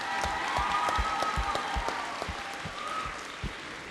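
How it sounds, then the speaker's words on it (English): Applause from an audience at a school event, a continuous patter of many clapping hands with a few louder individual claps standing out, steady for several seconds. "And let's have a round of applause for Maranda."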